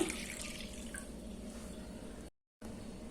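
A steady stream of water pours and splashes into a cooking pan, briefly cutting out before resuming, with no voices over it.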